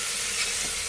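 Onions fry in a pan until brown for a chicken pulav, giving a dense, steady sizzle that stays close and even throughout the brief moment, with no talking.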